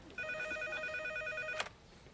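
An old-style telephone bell rings once in a sitcom scene, a sustained trilling ring lasting over a second before cutting off, fairly quiet and alone without talk.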